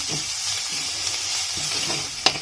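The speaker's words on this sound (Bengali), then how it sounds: "ভালো করে ভেজে নেবো" Steady oil sizzle of ginger and green chili frying in a little oil in a pan, continuous and close, with a couple of sharp scraping stirs near the end.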